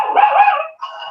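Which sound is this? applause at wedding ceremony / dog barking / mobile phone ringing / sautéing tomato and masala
dog barking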